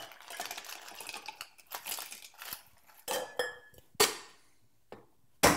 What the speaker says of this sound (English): We're just going to add our ice.